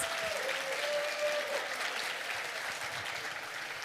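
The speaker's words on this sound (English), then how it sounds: "let's give them another big round of applause for the amazing performance." Applause from an audience after a media art and Tron dance performance by the Saengdonggam crew at a workshop, sustained and dense clapping that fills the room and fades slightly toward the end.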